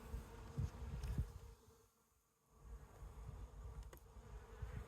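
Steady low buzzing of many honey bees in a hive box fills the clip, dipping briefly in the middle before swelling back, close and continuous with no talking.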